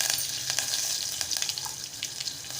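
Mustard seeds, cumin, asafoetida and curry leaves sizzle in hot oil, giving a steady close frying hiss with small pops and crackles throughout.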